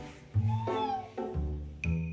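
A hungry cat meows while waiting for food, two or three drawn-out calls close by over a couple of seconds, with soft indoor background.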